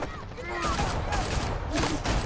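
Brief burst of gunfire aimed at Batman in Batman: The Telltale Series, a dense, loud spray of shots over a couple of seconds with a voice mixed in.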